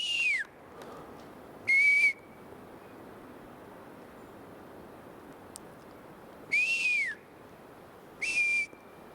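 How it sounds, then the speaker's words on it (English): Four loud whistled notes sound outdoors, each about half a second long, one pair with falling pitch and one pair held steady, separated by quiet gaps over faint background hiss. "Oh, whistle."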